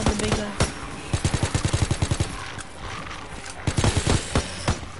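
A heavy mounted machine gun in a video game fires rapid close, loud bursts of evenly spaced shots in two long strings separated by a brief pause, with scattered other gunfire around.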